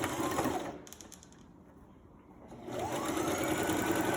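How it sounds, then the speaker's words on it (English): A sewing machine stitches fabric pieces together with a half-inch seam allowance, whirring steadily up close, pausing briefly in the middle with a few light clicks, then running again. "Go to the machine and sew these pieces together with 1/2 inch seam allowance"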